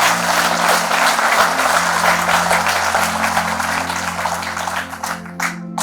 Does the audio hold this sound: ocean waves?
no